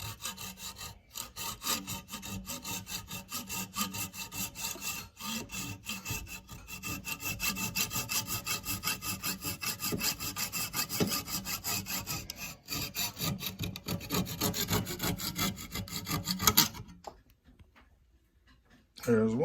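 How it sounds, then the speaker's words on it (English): Plastic mounting ears being cut off a car stereo dash kit during an ATOTO S8 Ultra Gen2 head unit install in an S197 Mustang: steady, close rasping strokes in a continuous rhythm that stop near the end. "it's hard to cut this plastic off"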